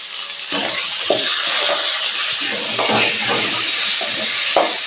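Onions and tomatoes frying in a pan for a Bombay-style chutney: a loud, continuous sizzle with repeated stirring scrapes at irregular intervals, up close.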